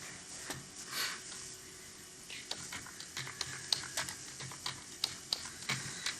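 Fingers tap a computer keyboard during beginner typing practice on the home row keys, quick light clicks in an uneven patter, close and fairly soft over a faint steady background hum.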